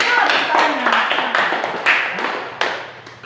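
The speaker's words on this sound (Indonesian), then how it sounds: "Tepuk tangan untuk Petronella dari kelompok 1." Applause for a student presenter in a chemistry class, a short burst of clapping from several classmates that fades over a few seconds, with some talk underneath.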